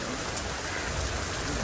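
Steady rain falls and pours inside a house, a dense, even hiss lasting the whole moment with no voices over it.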